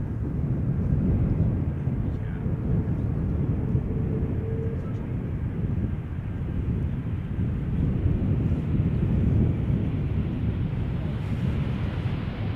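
An airliner landing at Schiphol Airport, a loud, steady low roar mixed with wind buffeting the microphone, continuous throughout with no clear peaks.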